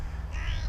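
Crows caw outdoors in woodland while being fed sausage, a short burst of harsh calls close by with a steady low rumble underneath.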